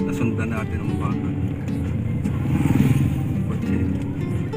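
A car passes on a rural road at Monte Maria, its engine rumble swelling and fading under ongoing family chatter, with a louder surge midway.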